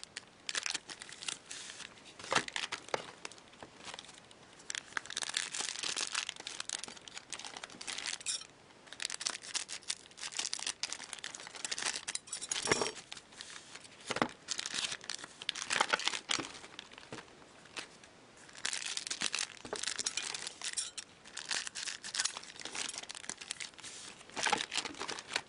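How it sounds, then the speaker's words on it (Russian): Foil trading card packs from a KHL hockey card box being torn open, with wrapper crinkling and ripping throughout in dense, continuous bursts, close and fairly loud with brief pauses between packs. "Распечатываем пакеты, естественно."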